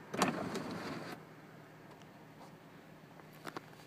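A power-operated part of an Acura MDX closes automatically with a steady motor whir lasting about a second, ending in a soft stop, then near-silence with a faint click later.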